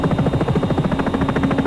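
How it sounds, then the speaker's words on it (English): Sikorsky S-76 helicopter in X-Plane 11, a loud, close rotor chop pulsing in a fast, even rhythm over a steady engine whine. "So that's the helicopter there."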